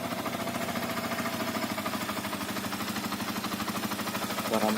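A 2013 Yamaha New Vixion Lightning motorcycle engine idles at a steady, even pulse, with a continuous mid-pitched rumble that holds level throughout.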